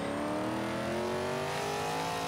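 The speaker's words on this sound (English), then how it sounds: "you have to rev it up as high as you can because it has a big dip in RPMs" In Forza 5, a Buick GNX with a 4-speed gearbox revs high and loud, its engine tone climbing steadily in a continuous, strained whine with no break or voices.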